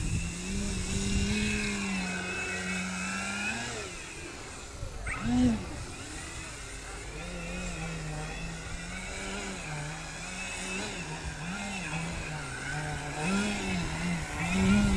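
A PA Katana MX RC airplane flies overhead, its small electric or glow motor droning steadily with a pitch that rises and falls as it passes and maneuvers, loud and continuous throughout.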